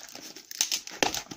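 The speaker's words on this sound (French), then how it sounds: "Là, ça c'est du papier bulle qui tient." Bubble wrap crinkles and rustles as it is handled while unboxing an Infocus M550 phone, a close, irregular series of crackling bursts.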